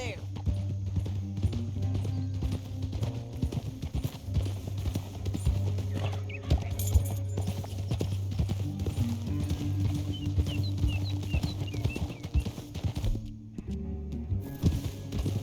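Horses gallop with quick, continuous clip-clop hoofbeats in the Red Dead Redemption 2 video game, under a low rumbling backdrop and scattered game voices and talk.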